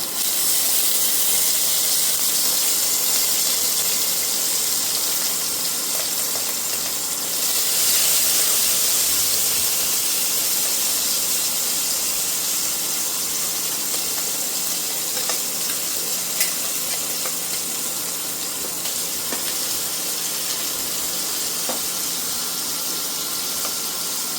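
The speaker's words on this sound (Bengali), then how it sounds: "এই মাছগুলো আমরা এবার একটু হালকা ভেজে নেব" Mourala fish sizzle and hiss steadily in a small amount of hot oil, a continuous bright frying crackle with occasional pops.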